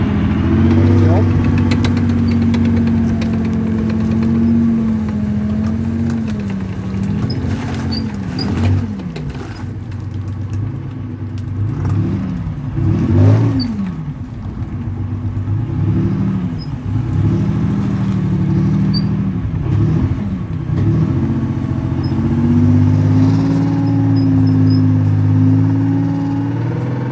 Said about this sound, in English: About that time, the lorry has arrived for the old girl.